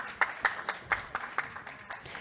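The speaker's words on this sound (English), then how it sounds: "Can we give him a round of applause" A short burst of scattered audience clapping at a food innovation event, a handful of distinct claps in an irregular rhythm that thins out toward the end, moderately loud.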